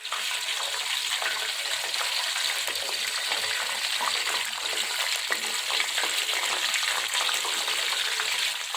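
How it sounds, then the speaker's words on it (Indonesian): Wrapped tilapia fish fries in hot vegetable oil, a steady dense crackling sizzle that continues evenly throughout with no talking. "kita goreng seperti ini saja"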